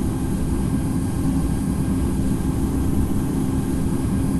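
An Airbus A350-900 in the flight simulator Infinite Flight roars steadily on its takeoff roll, a constant loud low engine rumble with no pauses and no talk.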